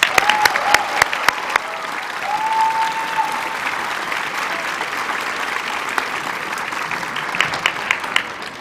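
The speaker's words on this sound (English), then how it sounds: "And we can keep the applause going" A college convocation crowd applauds faculty and staff in a large hall, a continuous roomy wash of clapping with a few crisp individual claps early on and a brief whistle-like tone.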